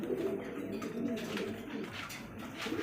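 Pet pigeons of breeds such as Lahori and Bombai, kept for sale, coo softly and repeatedly at a distance in a quiet enclosure, with low murmured talk around them.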